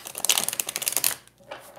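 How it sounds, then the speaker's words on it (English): A deck of cards is shuffled quickly up close, giving a fast run of crisp riffling flutters that ends in a short pause and then a final soft flick. "one more quick shuffle here"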